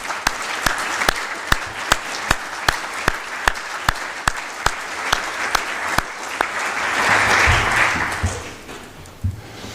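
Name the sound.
audience applause at a ceremony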